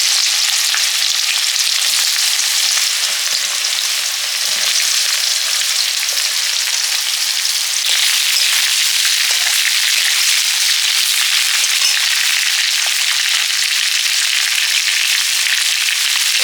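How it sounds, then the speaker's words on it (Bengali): Chillies and sliced ridge gourd fry loudly in a pan, a dense, continuous hiss of sizzling oil that holds steady and close throughout with only slight crackles. "লঙ্কা ঝিঙেগুলো দিয়ে দিচ্ছি পরপর"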